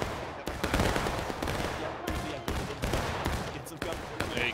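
Volleys of musket fire ring out in the Civil War battle game War of Rights on the Hatch's Attack map with 250 players, dense cracking shots bursting in waves one after another, loud and close, with a sustained roar of battle between them.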